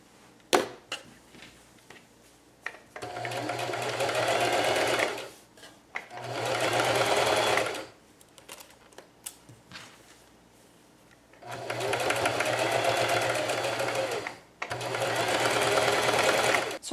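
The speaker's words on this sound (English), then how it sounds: "Now I'm ready to sew my scant of a quarter inch seam down both my sides here." A sewing machine stitching a scant quarter-inch seam along the side of a pillowcase, running in four sustained bursts of a few seconds each with quiet gaps and small clicks of fabric handling between them.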